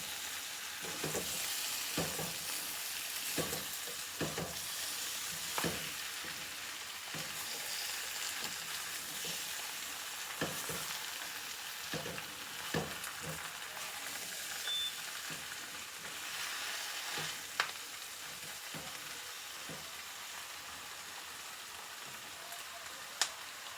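Vegetables fry in a pan with a steady crackling sizzle, punctuated by repeated scraping stirs that tap and clatter at irregular intervals over a long stretch.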